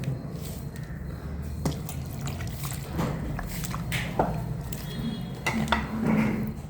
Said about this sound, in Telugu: మనం దీంట్లో కొంచెంగా వాటర్ వేసుకుని మనం కలుపుకోవాలి